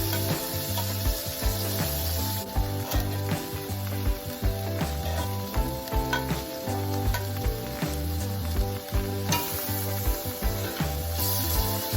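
Marinated steak sizzling in a pan on high heat, a loud continuous crackle of frying with rhythmic scraping and stirring throughout, no voices.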